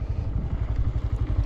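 A Honda Grom motorcycle engine runs after the clutch is let out in second gear, giving a close, steady low thrum with rapid pulsing and no talk over it.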